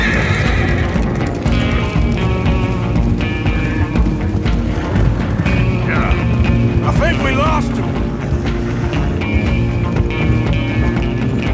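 In the video game Red Dead Redemption 2, horses whinny over clip-clopping hooves amid a dense, loud soundscape with mechanical clatter throughout.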